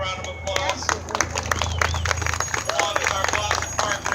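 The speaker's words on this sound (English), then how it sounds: "So if you give them a round of applause." An outdoor crowd at a Christmas tree ceremony on Boston Common breaks into scattered applause and clapping, with a voice speaking over the noise and light crowd chatter behind.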